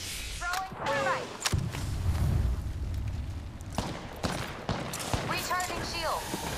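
Bursts of automatic gunfire and sharp blasts from an online shooter game, loud and close, with a character's voice calling out in between the shots.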